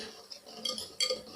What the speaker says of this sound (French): je vais verser un œuf pendant qu'Amel va mélanger